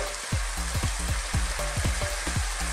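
Fish frying in a pan with sliced bitter melon, a close crackling sizzle broken by regular scraping stirs of a spatula about every half second, with no talk.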